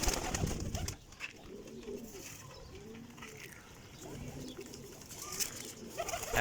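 Several pigeons coo in low, rolling phrases that repeat throughout, with chatter of other birds and faint background noise.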